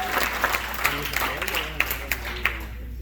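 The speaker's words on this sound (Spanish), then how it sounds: "Fuertes aplausos a nuestro Dios." Church congregation applauding during a Spanish-language worship service, a scattered burst of clapping with a few sharp individual claps standing out over a low steady hum, while voices carry on underneath.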